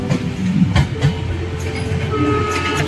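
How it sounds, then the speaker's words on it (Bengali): Passenger train running between New Jalpaiguri and Alipurduar, heard from inside a general-class coach: a steady, loud rolling rumble with rhythmic wheel clatter and brief squeals, no talk. "এই ট্রেন এখন গিয়ে দাঁড়াবে শিলিগুড়ি"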